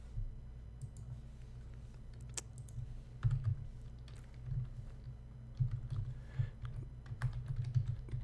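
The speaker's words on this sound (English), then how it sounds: "So my return address I'm going to type up here." Quiet, steady clatter of fingers typing a return address on a computer keyboard, with irregular key clicks and a few louder taps over a low hum, close and soft.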